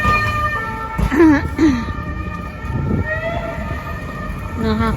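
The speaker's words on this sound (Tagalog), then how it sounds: "Yung ambulansya." An ambulance siren wails through a busy, noisy street scene in Spain, with voices and traffic mixed in around it.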